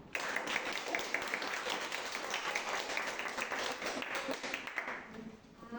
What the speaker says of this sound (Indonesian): Berikan aplaus kepada mereka.